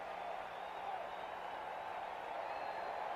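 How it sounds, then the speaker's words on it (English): A huge baseball crowd of over sixty thousand roars steadily at Candlestick Park after a home run in a 1989 NLCS playoff game, Cubs versus Giants, a dense continuous wall of cheering with no breaks. "And they are going wild at Candlestick."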